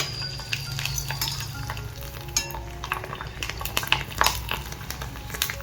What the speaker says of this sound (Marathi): मी आता पॉपकॉर्न उपासाचे वडे तळून दाखवते तुम्हाला